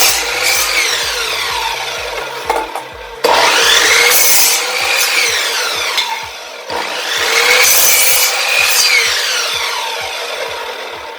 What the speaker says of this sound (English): The saw works great on this 2x2.